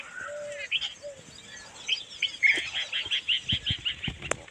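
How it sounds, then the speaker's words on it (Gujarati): Several birds call in an open farm field, giving a run of repeated bright chirps and whistles that quicken toward the end, with a lower call early on, at moderate distance. "બસ પક્ષીનો અવાજ આવે છે"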